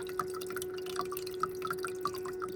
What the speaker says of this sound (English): When it starts, it fills the little tray in the back with water